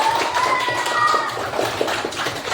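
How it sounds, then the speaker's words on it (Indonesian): Children in a classroom clap for a classmate, a quick run of light, sharp hand claps at close range over a noisy room, with faint high tones sounding briefly. "Kasih tepuk tangan dulu untuk Aska."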